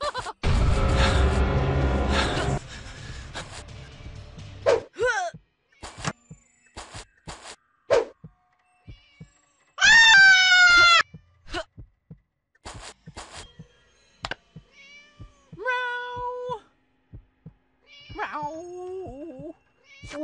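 A cartoon cat in the Scary Teacher 3D video game meows several times, with short, high, wavering cries separated by game clicks and effects, following a louder burst of game noise at the start.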